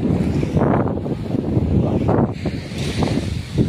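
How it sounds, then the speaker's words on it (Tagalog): Strong wind roaring across the microphone at sea, with waves rolling nearby, a steady loud gusty rumble that swells and eases over a few seconds, no voices heard. "Lakas ng hangin."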